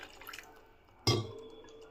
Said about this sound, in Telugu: ఇప్పుడు ఇందులోకి కొంచెం వాటర్ వేసుకుందాము